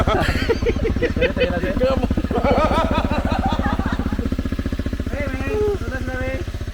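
Motorcycle engine running steadily during a ride on the way to Mag-lian Waterfalls, a close, loud throbbing drone that continues throughout.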